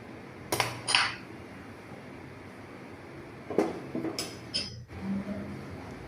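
Milk thickening in a pan for paalkova is stirred steadily, with a few distinct clinks and scrapes of the spoon against the metal pan over a quiet low background.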